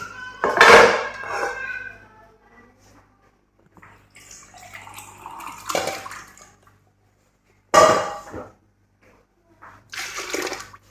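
Water is poured from glasses into a cooking pot for pulao in a home kitchen: several separate splashing pours, each a short, loud burst followed by quieter trickling and pauses, close to the microphone, with a faint low hum underneath.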